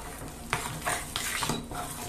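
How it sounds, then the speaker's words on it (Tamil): A spoon stirs fried raisins and a thick mixture into flour dough in a pot for a weight-loss recipe, producing soft scraping and clinking against the metal in several uneven strokes, close and moderately quiet. "இன்னும் எல்லாத்தையும் சேர்த்து நம்ம கிண்டுறோம்"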